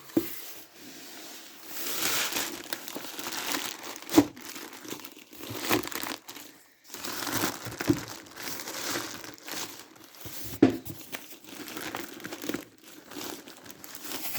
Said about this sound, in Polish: Ok, udało mi się zdjąć folię z dwóch stron.